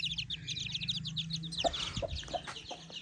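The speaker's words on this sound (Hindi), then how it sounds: "मुर्गी अपने बच्चों के लिए फिर रही है" A hen clucks repeatedly while tending her chicks in a Pakistani village yard, the low clucks running steadily under a dense layer of high peeping chick chirps, close and continuous.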